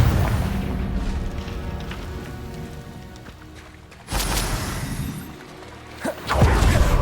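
A fiery Confringo spell blast from the Hogwarts Legacy video game erupts in a sudden loud boom over a rumbling background, followed by a second sharp burst near the end.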